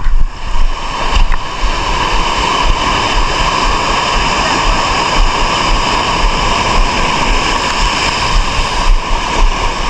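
Loud, continuous roar of rough sea water, broad and churning throughout, with no talking.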